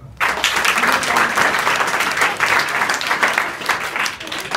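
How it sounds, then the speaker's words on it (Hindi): A school audience of children claps for a student named Vipul. The applause starts abruptly and stays loud and dense for a few seconds, then thins slightly toward the end, with faint voices mixed in. "विपुल के लिए ताली बजाए।"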